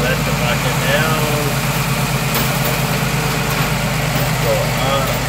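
A tractor engine idles steadily with a loud, low rumble while its front bucket is being lowered; a continuous vibrating drone runs throughout.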